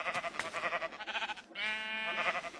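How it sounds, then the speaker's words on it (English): Sheep in the game Minecraft bleat in short wavering cries, several calls in quick succession and then one longer bleat, clear and alone with no talk. "I just killed a sheep."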